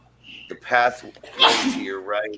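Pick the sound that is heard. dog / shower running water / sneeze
sneeze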